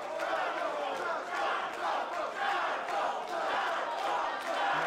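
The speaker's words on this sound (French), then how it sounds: "La foule qui scande son nom." Wrestling crowd at an NCW show in Sainte-Thérèse chanting a wrestler's name, a dense arena roar with a steady repeating chant pulse and a commentator talking beneath.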